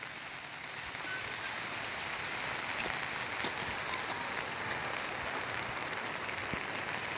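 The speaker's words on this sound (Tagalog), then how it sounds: "sobrang lakas ng ulan" Heavy rain pours steadily over farmland, a dense even hiss with scattered louder drops landing nearby, continuing without a break.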